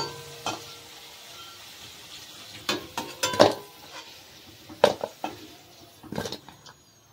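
Potatoes frying in oil in a pan during home cooking, a steady faint sizzle broken by several sharp scraping stirs of a utensil against the pan, no talking.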